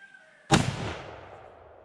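A .50-110 rifle fires a light 300-grain bronze bullet, one sharp loud report with a long decaying boom. Heard alone, with no talk.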